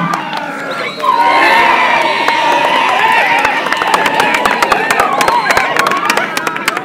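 Crowd at a military commando graduation at Ruvu JKT loudly cheering and ululating in sustained high trills, filling the space with dense, continuous noise from about one second on, with scattered shouts and claps.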